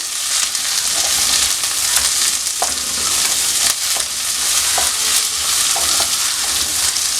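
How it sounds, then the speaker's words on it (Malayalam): Onions sautéed in a pan for a Kerala-style prawn roast, a loud continuous close sizzle broken by a few sharp stirring knocks and scrapes, with no one talking. "നല്ലതുപോലെ ഒന്ന് വഴറ്റി കൊടുക്കാം"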